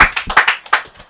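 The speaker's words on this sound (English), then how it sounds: "Let's clap it up for yourselves real quick." Open mic night audience clapping, a short burst of several distinct, fairly close hand claps in an uneven rhythm that fades out within about a second.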